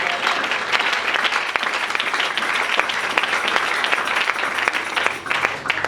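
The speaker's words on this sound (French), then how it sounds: "Est-ce qu'on peut acclamer très fort pour le Seigneur?" A church congregation at a Sunday service breaks into loud, sustained applause, dense continuous clapping from many hands that fills the room at a steady level.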